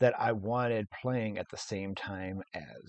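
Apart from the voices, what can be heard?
No everyday noise stands out behind the speech.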